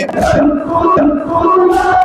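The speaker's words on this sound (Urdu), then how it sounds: "نوخوانی و سینہ زنی کرنے کے ساتھ ساتھ عالمی استقبال امریکہ و اسرائیل کے خلاف فلک شگاہ نعرے لگا رہے تھے" A mourning procession crowd in Sankoo chanting slogans loudly in unison, a dense mass of voices rising and falling rhythmically close by.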